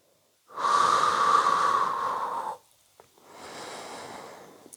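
A long, audible breath drawn in during a Pilates exercise, close and airy for about two seconds, followed by a softer, slower exhale after a brief pause, with no talk.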